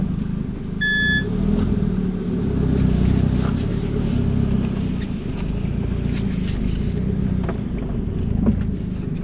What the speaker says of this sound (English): First drive was a resounding success. The car was driving on its own steam.